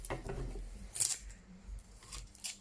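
Scissors trim paper while making an envelope storage book, giving a few quiet, close snips and rustles spread across a near-silent moment, with no voices.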